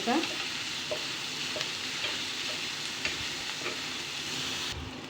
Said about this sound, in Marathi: त्या तेलामध्ये कांदा छान असा परतून घेऊयात छान मस्त एक सारखा हलवून